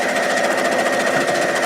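Sewing machine running steadily through a back stitch, a continuous close, loud mechanical whir with a fast even rhythm and no pauses.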